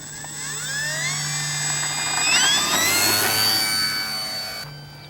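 Durafly Corsair RC model warbird climbing away on takeoff, its electric motor and propeller giving a loud, steady high-pitched whine that rises in pitch and swells as the plane passes, then fades slightly as it flies off.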